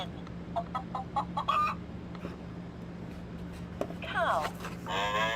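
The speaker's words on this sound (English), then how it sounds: "A hen? Hen." A hen clucks from an animal-sound toy in a short series of quick clucks, then a brief squawky call near the end, close and moderately loud over a steady electrical hum.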